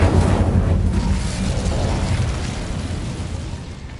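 A burst of fire from the Incendio spell in Hogwarts Legacy: a loud whooshing blast at the start that slowly fades into a lingering rumble, with no voice.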